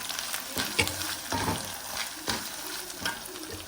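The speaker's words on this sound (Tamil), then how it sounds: "இந்த தேங்காய் கருவேப்பில போட்டு இன்னும் வதக்கிட்டு போட்டோம்னா வாசனையாக இருக்கும்" Coconut, curry leaves and dried chillies sautéing for rice upma give a steady sizzle, broken by repeated scraping strokes of a spoon stirring the pan at close range.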